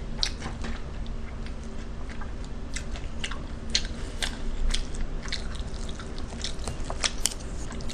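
Fried rice and sweet potato being chewed up close, with a steady run of small wet clicks and squishy mouth sounds throughout.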